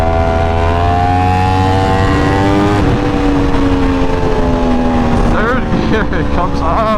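A new Yamaha R1 motorcycle engine pulling hard in third gear on a highway, a loud steady high-pitched whine rising in pitch, overlaid by wind roar, with brief voice-like sounds near the end.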